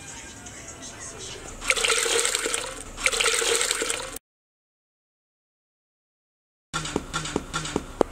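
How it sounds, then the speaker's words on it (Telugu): Water is splashed onto an exterior wall joint before texture putty goes on: two spells of hissing spray, a silent gap, then a few sharp drips and taps. "ముందు జాయింట్ దగ్గర వాటర్తో ఇలా తడుపుకోవాలి"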